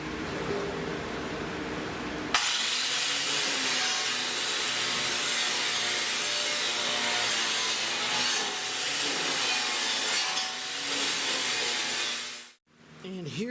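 A nylon stripping wheel on a power tool takes paint off the inside of a vehicle bumper, a loud steady whirring rub with slight pitch wavering, running continuously for about ten seconds before cutting off.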